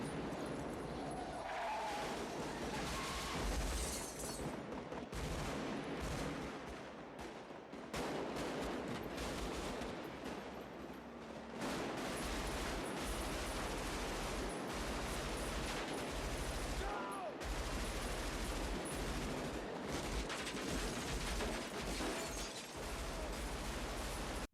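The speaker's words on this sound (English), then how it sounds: "The roaring gunshots dominate the soundtrack." Heavy film shootout gunfire from the movie Tenet roars in dense, loud volleys, with sharp cracks layered over a booming, chaotic din that barely lets up.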